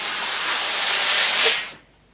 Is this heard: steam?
yes